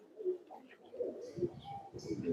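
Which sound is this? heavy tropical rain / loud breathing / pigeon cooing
pigeon cooing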